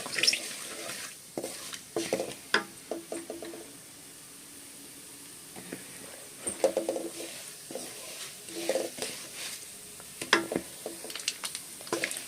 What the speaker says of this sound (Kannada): ಎಣ್ಣೆ ಕಾದ್ಮೇಲೆ ಸಾಸಿವೆ ಉದ್ದಿನಬೇಳೆ ಹಾಕ್ತಾಯಿದ್ದೀನಿ